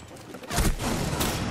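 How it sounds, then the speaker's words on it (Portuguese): Rapid bursts of gunfire in Rainbow Six Siege, loud and close, with a sharp volley starting partway through and sustained shooting after, no talk over it. "Eu tô atirando na Valkyrie"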